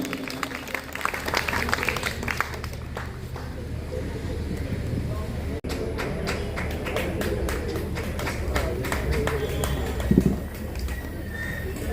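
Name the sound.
audience applause at a school ceremony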